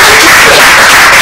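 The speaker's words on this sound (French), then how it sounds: "Et bien on le raccompagne, on applaudit pour" Studio audience applauding a departing contestant on a French TV game show about the highway code, a steady, loud wash of clapping throughout with no pauses.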